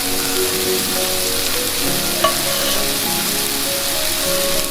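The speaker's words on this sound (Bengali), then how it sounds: "কড়াই গরম করে তেল দিয়ে পেঁয়াজ ভাজা শুরু করে দিয়েছি।" Onions frying in hot oil in a heated wok (karahi), a steady close sizzle with soft crackle throughout and one brief clink midway, no voices.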